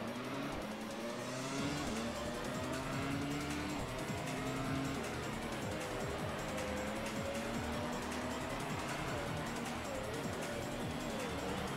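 A Ferrari Formula One car in the PS2 racing game Grand Prix Challenge, its engine whine rising and falling through gear changes, with other cars faintly nearby and no speech.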